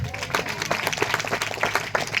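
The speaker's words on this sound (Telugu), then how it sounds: "గట్టిగా చప్పట్లు కొట్టండి." A church congregation at a Christmas gathering claps in quick, uneven bursts, moderately loud, with some voices mixed in.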